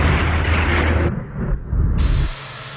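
Missile explosion destroying a tank, a loud blast with a roaring hiss of debris and fire that drops away, surges again, then falls to a lower rumble.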